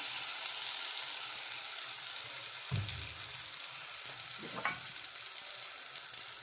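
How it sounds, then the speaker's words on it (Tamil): Tempered spices added to a pot of tomato pickle on the stove, giving a steady bright sizzle and hiss throughout, with a dull clunk near the middle and brief spoon stirring afterward, close and without talk. "இப்போ நாங்கள் தாளித்த இந்த எல்லா பொருளையும் இதில் போட்டுக்கொள்ளுவோம்"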